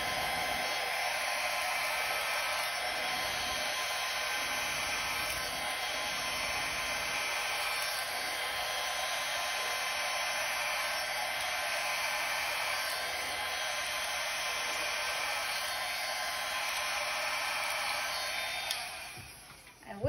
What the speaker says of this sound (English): I'm gonna quickly grab my blow dryer, and on the low cool setting